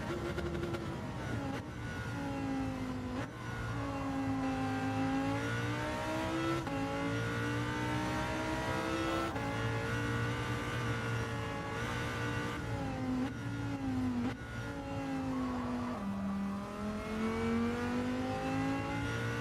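A car engine in Gran Turismo 7 sim racing revs loudly and continuously, its pitch climbing and dropping through gear changes and engine braking, with no talk over it.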